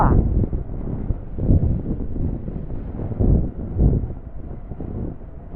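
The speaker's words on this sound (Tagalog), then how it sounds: "Oh, lakas ng hangin dito" Strong wind buffets the microphone in low, rumbling gusts that swell and fade throughout, with no other clear sounds, in a village in Villareal, Samar, at midday.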